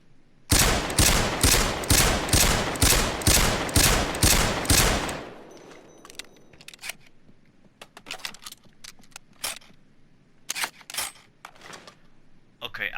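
Rapid bursts of WA2000 (Lebensauger .308) sniper rifle fire in Payday 2, about a dozen loud evenly spaced shots, followed by scattered sharper gunshots and clatter further off.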